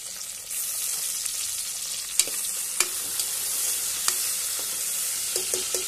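Chopped tomato frying in hot oil with onion for masoor dal, a steady bright sizzle with occasional sharp clicks and taps of a stirring spoon against the pan, close and continuous.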